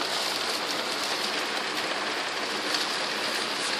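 Heavy rain pours down in a dense, steady hiss, loud and close, with no voices over it.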